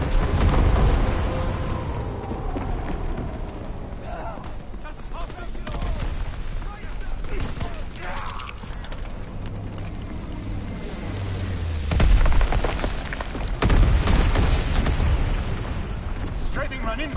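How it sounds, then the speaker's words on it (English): Carpet bombing explosions in a World War 2 video game, a rumbling continuous roar with heavier booming bursts near the end, mixed under an announcer's voice calling out mission updates. "Carpet bombing run inbound."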